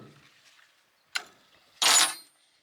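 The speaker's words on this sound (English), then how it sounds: "what we're gonna do is just pull them 4 bolts out. Take my little wrench here" A small wrench works the bolts loose on an old rotary hoe bearing, giving two separate ratcheting bursts, a short one and then a longer, louder one, against a quiet background.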